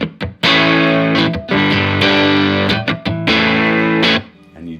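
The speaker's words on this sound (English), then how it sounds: "And you just start to get this sense of distortion" An electric guitar played through a Fender Deluxe Reverb amplifier turned up to about 4, with slight distortion thickening the tone, loud sustained strummed chords in several bursts separated by brief pauses, no talking.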